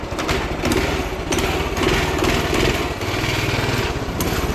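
A small, buzzy single-cylinder engine runs continuously nearby, its pitch rising and falling slightly like a minibike being ridden.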